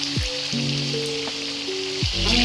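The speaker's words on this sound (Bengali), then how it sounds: "তেলটা গরম হলে আমি ওটা মিডিয়াম ফ্লেমে ভেজে নেব" Chicken nuggets fry in hot oil over a medium gas flame, giving a steady close sizzle with background tonal sounds running over it.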